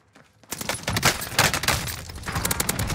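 Gunfire in the Call of Duty Warzone video game on the Caldera map, starting after a brief quiet moment with dense, rapid automatic bursts and overlapping shots that keep going, loud and close.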